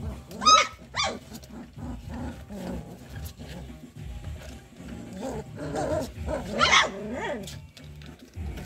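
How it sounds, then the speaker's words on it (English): Several Dobermann puppies playing together nearby, yapping, squealing and growling in overlapping bursts, with moderate loudness throughout. "Puppy mosh pit."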